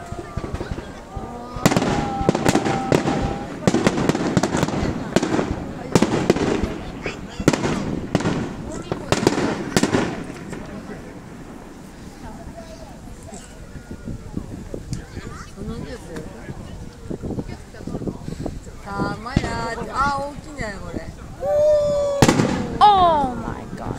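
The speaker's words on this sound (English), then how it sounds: "So many people here just to see fireworks" Fireworks show seen from a crowded viewing spot: a dense run of sharp bangs and crackling bursts, loud for the first ten seconds, then scattered pops and crackles under crowd chatter and voices.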